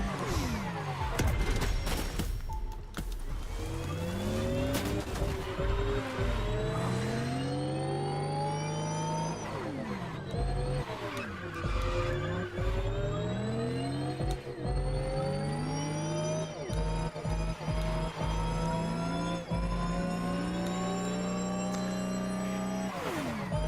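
A car in The Crew Motorfest racing game, with a steady engine drone rising and falling in pitch through gear shifts and revving, plus occasional impacts and skids, loud and continuous.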